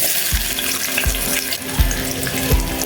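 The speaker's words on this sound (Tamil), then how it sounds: "இப்போ அடுப்பை பற்ற வச்சு குழம்பு சட்டி வச்சுக்கிட்டோம். கொஞ்சமாக எண்ணெய் ஊற்றியாச்சு. இப்போ வெங்காயம் போட்டுக்கலாம்" Onions hit hot oil in a clay curry pot for sambar and sizzle with a steady, dense hiss, punctuated by soft rhythmic thumps of stirring about every 0.7 seconds.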